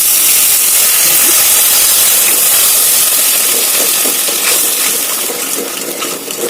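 Water poured into hot ghee with sugar in a pan sets off a loud, continuous sizzling hiss that holds steady throughout, with faint crackles and bubbling inside it, easing slightly toward the end.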